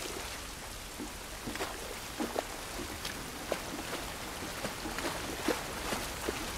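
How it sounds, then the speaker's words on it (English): Rain falls in the video game The Last of Us Part 1, a dense, steady hiss with scattered louder drips and patters across the whole stretch, no voices. "This rain ain't gonna do us any good."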